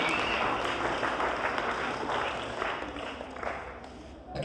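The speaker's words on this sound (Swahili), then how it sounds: "Hebu mpigieni Yesu makofi kwa ajili ya wakurugenzi na walimu." An audience claps at a children's church celebration, with a dense, steady patter of applause that slowly thins toward the end and a voice underneath.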